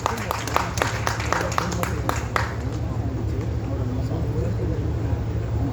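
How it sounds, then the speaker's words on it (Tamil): Audience applause at a movie audio launch event, a burst of dense clapping at the start that settles into steady crowd noise with ongoing hall murmur. "ஒரு நல்ல கைத்தட்டல் கொடுத்தலாம் மிஸ்டர் ஆனந்த் சாருக்கு"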